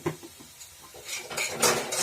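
A spoon scrapes and clinks against a pan while masala with ground turmeric, cumin and coriander is stirred, close metallic knocks and scraping that grow busier toward the end, with only a faint sizzle.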